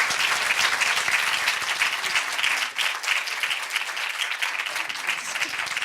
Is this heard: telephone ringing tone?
no